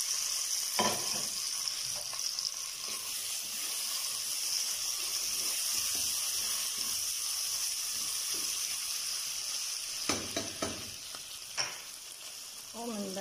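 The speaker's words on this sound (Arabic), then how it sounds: "نخليوها تقلى ونرجع لكم بعد لحظات" Chicken and mushrooms fry in a pan with a steady, even sizzle that fills the whole stretch, broken only by a few faint clinks and stirring sounds.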